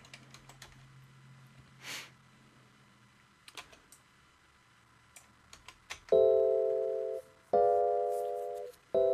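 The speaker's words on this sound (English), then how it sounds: "Just some electric piano sounds." Electric piano notes from an imported MIDI file in Cubase enter after several quiet seconds, sounding as loud sustained chords that ring and decay, then repeat twice, alone with no talk.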